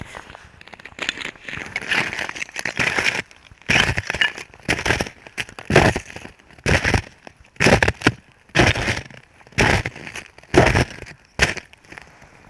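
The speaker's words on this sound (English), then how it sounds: "Or is it B, Richard walking through the icy snow of his front yard?" Footsteps crunching through icy snow in a front yard, a steady series of about a dozen loud, close, crackling crushes with brief gaps between steps.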